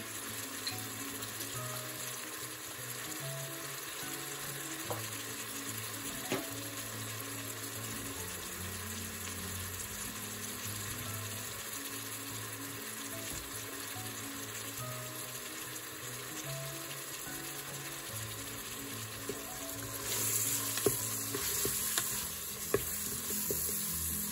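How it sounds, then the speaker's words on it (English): Steady frying sizzle of ginger garlic paste in golden-brown onions in an electric pressure cooker, with faint stirring clinks and a slight rise in crackle near the end; no talking. "you can put in your ginger garlic paste. It's sizzling."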